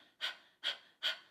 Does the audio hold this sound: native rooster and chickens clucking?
no